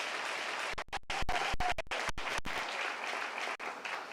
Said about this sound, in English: Let's go ahead and give these individuals one round of applause.